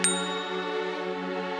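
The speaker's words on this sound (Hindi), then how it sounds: "ये कोई मामूली घंटी नहीं है, बल्कि जादुई घंटी है।" A single strike of a magic bell rings out clearly, then its bright metallic tone holds and slowly fades, with no voices.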